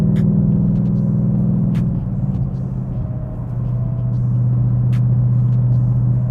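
Supercharged 2018 Ford Mustang with a manual transmission cruising at highway speed in sixth gear at low revs, giving a steady, loud, low engine drone that shifts pitch slightly midway, with no talk over it.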